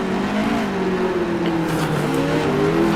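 A race car's engine drones steadily through a heat race, holding a loud, even pitch that dips slightly as the car turns, with other cars faintly audible around it.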